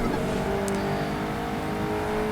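A Chevrolet Corvette's engine drones steadily and loudly in a rain-soaked hot lap in Project Gotham Racing 2, a sustained revving tone with no voices over it.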